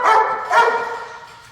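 Male dogs at a guide dog breeding center bark loudly and excitedly nearby, two quick barks followed by a fading whine-like tail, with no talking.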